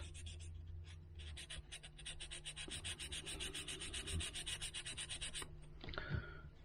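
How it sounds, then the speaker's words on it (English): Light rubbing on the metal charging contacts of an XP Deus metal detector: a quiet, rapid back-and-forth scratching at close range, steady for several seconds, then a brief pause and a few more strokes. "This is only light rubbing, not hard, because like I say, we don't want to take away too much of the metal of the contacts."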